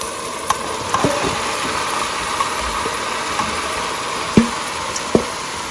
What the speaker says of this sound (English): in goes my cabbage mix